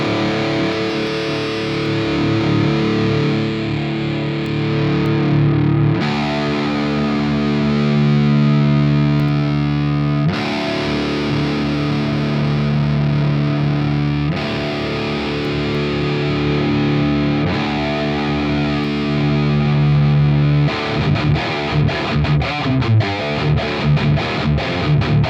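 A heavily distorted metal guitar played through an ML Sound Lab Amped amplifier into a Mega 412 cabinet chugs loud and dense throughout, ending in a burst of tight, choppy palm-muted stabs.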